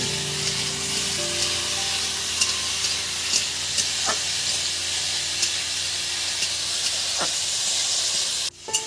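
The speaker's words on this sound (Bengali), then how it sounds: "এই যে কুচি কুচি করা আলুগুলো এবার এর মধ্যে আমি দিয়ে দেবো" Chopped potatoes fry in a pan for chire pulao (flattened rice pilaf), a steady sizzling hiss with occasional stirring scrapes and taps, close and continuous before a brief clatter at the end.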